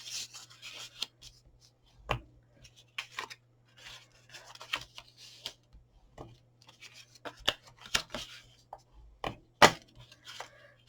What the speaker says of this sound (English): So you just burnish all your wee lines now, just making sure everything's going up straight.